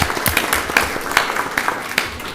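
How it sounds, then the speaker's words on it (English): A round of applause breaks out in a county council meeting room, a steady patter of many hands clapping at moderate volume for a couple of seconds. "We'll give you a round of applause."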